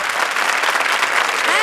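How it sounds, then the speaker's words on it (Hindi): A studio audience at a comedy show bursts into loud, dense applause that fills the whole short stretch without pause. "भाई जोरदार तालियां"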